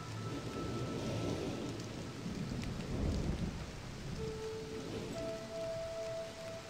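Steady rain and a deep rumble of thunder fill a realMyst storm scene, the rumble building midway, with faint sustained tones underneath and no talk.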